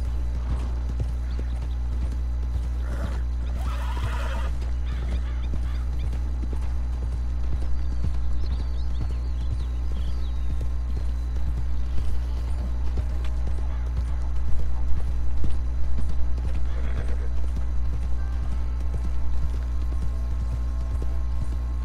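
Horse galloping in the video game Red Dead Redemption 2, with steady rhythmic hoofbeats thudding continuously under a constant low hum, plus a brief whinny-like burst near the start.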